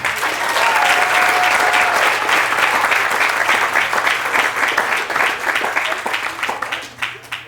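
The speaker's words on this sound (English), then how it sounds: "let's give ourselves another round of applause" Loud, sustained applause from a large crowd at a school moving-up ceremony, dense clapping that carries on throughout before thinning slightly at the end.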